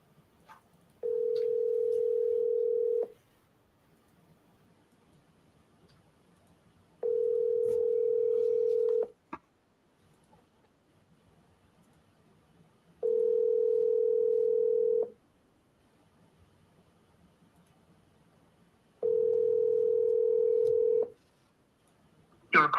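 During a phone call, a steady telephone tone sounds in four evenly spaced two-second beeps separated by quiet gaps, clear and moderately loud on the line.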